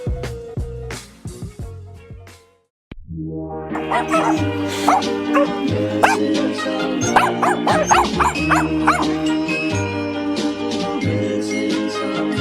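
Huskies at a Canadian kennel bark and yip in a loud, overlapping chorus with whimpers mixed in, close by and continuous after a brief pause.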